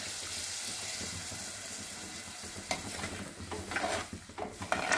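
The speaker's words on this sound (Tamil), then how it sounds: "இப்போ புளி கரைச்சி வச்சுருக்கேங்க. தேவையான அளவுக்கு ஊற்றிக்கலாம்." Tamarind water poured into a bitter gourd kuzhambu cooking in a pan: soft liquid splashing and a gentle sizzle against a steady low kitchen hiss, with a few louder splashes near the end.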